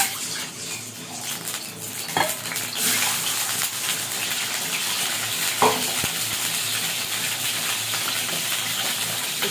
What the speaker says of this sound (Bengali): এখন ডিমটা কড়াইয়ে দিয়ে দেবো।